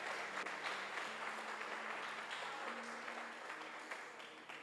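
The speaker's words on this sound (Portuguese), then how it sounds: "Você pode aplaudir a Ele nessa noite." A church congregation applauds during an evening service, a steady wash of clapping filling the room throughout, fading slightly toward the end, with faint voices and a low sustained tone underneath.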